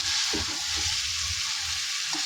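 Chicken with spices sautéed and stirred in a pan for a Bengali kosha, a loud continuous sizzle with rhythmic scraping strokes of a spoon, close and with no voices.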